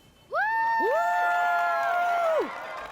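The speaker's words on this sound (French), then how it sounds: "Je vous demande d'applaudir chaleureusement Adriana Osorio." An audience greets Adriana Osorio with sustained cheering and whooping, loud voices holding long rising and falling tones for about two seconds before fading.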